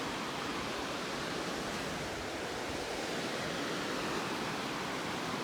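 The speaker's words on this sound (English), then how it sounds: "Oh, what a cool little river." A river flows near the Mount Robson visitor centre in the Rockies, a constant broad rush of moving water, loud and steady with no pauses.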